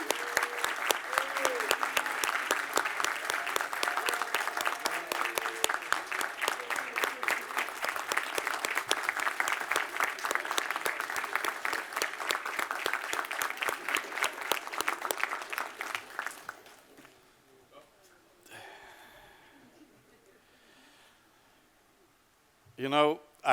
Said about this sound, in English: give a hand of applause to Pietro Rivoli,